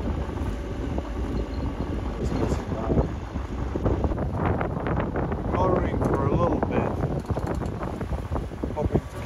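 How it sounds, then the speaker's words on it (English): Wind gusts buffet the microphone aboard a sailboat on Lake Michigan, a rough, fluctuating rush with water and hull noise, while a voice is faintly heard in places. "Get some wind finally."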